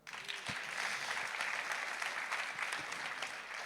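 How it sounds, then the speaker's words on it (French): An audience claps at a French awards-style event, a sustained burst of applause that fills the space evenly for a few seconds, fairly quiet and distant-sounding. "Vous pouvez l'applaudir."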